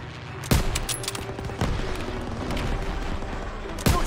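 Gunfire in the World War II shooter game Call of Duty WWII, church fortress mission: sharp loud shots at the start and end over a steady crackling fusillade of distant rapid fire and battle rumble.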